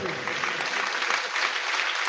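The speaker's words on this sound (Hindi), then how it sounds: "एक बार आप अपने लिए ताली बजा दीजिए, देखते हैं कितनी अच्छी बजाते हो।" A large crowd at a live religious gathering in Ramchandra Nagar claps together in steady, dense applause that runs without pause and sounds fairly distant, with faint voices mixed in underneath.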